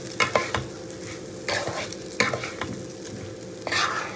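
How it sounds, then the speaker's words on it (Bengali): Rice with turmeric frying in ghee as it is stirred, with a low sizzle broken by scraping strokes and spoon knocks at irregular intervals, close and with no speech. "এটাও খুব ভালো করে মিশিয়ে চালের সঙ্গে একটু ভেজে নেব।"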